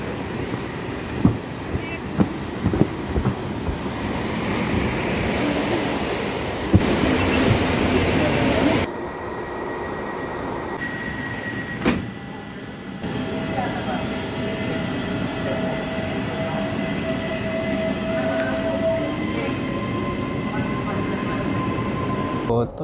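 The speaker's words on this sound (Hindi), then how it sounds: "तो यही है लोकल ट्रेन" A local train in Russia runs with a steady rumble and rattle of the carriages, a few clunks early on and a long sustained hum, with people talking inside the car.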